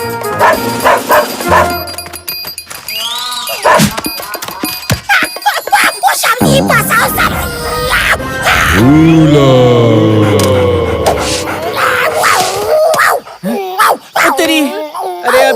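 Cartoon character Ting Tong, turned into a dog, barks, yips and whimpers in quick repeated bursts, close and loud, mixed with lively voices and music.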